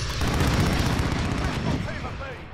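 Heavy gunfire and booming blasts in a Call of Duty Modern Warfare multiplayer match, a loud dense burst that fades slightly toward the end, with speech mixed in.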